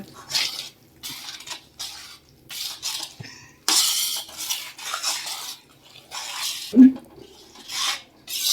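Ghee and flour are worked together by hand in a tagari bowl, giving a series of close, rhythmic scraping and squishing strokes with short pauses between them.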